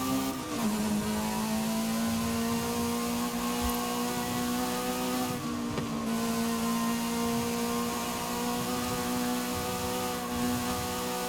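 A lightweight Lotus sports car driving in Forza Horizon 5: a steady, droning engine note that holds an even pitch with a slight dip near the start, sustained and fairly loud throughout, with no talk.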